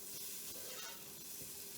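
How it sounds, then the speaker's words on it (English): Chopped vegetables for corn succotash sizzle softly in hot oil in a pan, a faint, steady crackling hiss with no voices over it. "Yep, here it's sizzling"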